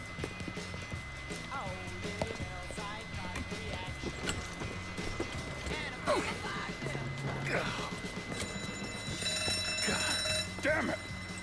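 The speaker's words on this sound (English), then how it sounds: "You triggered the fucking alarm?" An alarm goes off during a heist in the video game Mafia III, ringing steadily under game music, effects and voices, growing busier and louder toward the end.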